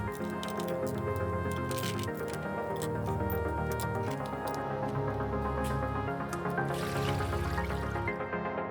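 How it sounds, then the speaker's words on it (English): A basket of Honda CRF450 motorcycle parts goes into a liquid soak tank, giving close dripping, squishing and sloshing liquid sounds with a low rhythmic hum that pulses throughout and a brief crack partway through. "Gonna fill up this basket and drop it into the soak tank."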